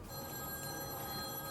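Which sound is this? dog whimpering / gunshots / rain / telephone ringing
telephone ringing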